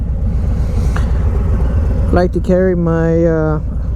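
A 2020 Harley-Davidson Low Rider S motorcycle idles with a steady low rumble throughout, and someone talks over it during the second half.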